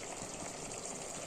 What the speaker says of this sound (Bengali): ঝোলটা আমি কষে জলটা দিয়ে দিয়েছি, মাংসটা কষে নিয়ে জলটা দিয়ে দিয়েছি